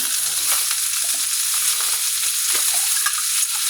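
Chicken and onion frying in bacon grease in a pan give a steady, loud, close sizzle with soft crackles throughout, and no voices over it.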